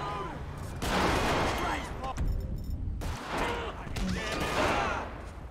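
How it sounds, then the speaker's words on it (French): Two bursts of rapid, crackling gunfire in GTA 5, each lasting about a second, separated by quieter game ambience. "Il y a des coups de feu."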